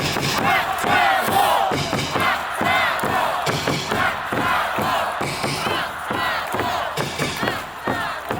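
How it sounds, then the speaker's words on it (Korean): Kia Tigers baseball fans chant a player's name in unison at a stadium, a loud, rhythmic crowd chant with steady beats and shouts throughout. "다 힘찬 목소리로 박창호"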